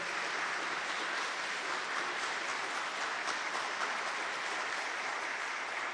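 An audience at a religious talk applauds, a continuous even wash of clapping heard from a moderate distance, fairly faint and steady throughout with no voices standing out.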